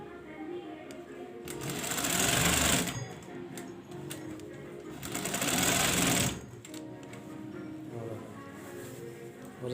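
Sewing machine stitching a pillow cover, two sustained runs of fast rattling needle stitching that swell loudly and then stop, with quieter mechanical handling between them.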